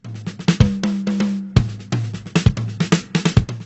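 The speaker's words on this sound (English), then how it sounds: "So on this solo, you hear he uses this tom, this drum." Solo drumming on a 10-inch tom with punchy, resonant hits in quick irregular bursts, close and loud, with sharp attacks and short ringing decays.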